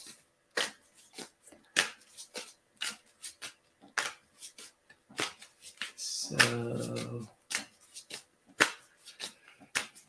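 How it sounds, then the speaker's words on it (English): A deck of playing cards being shuffled, with crisp riffles and bursts repeating in a steady rhythm and a longer cascading bridge in the middle, close and fairly quiet, no talking. "Yeah, it seems like people like the card shuffling."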